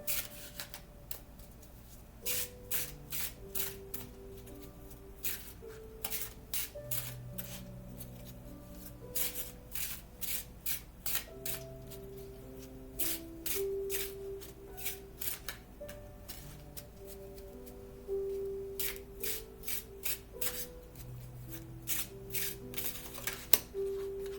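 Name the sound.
shuffling tarot cards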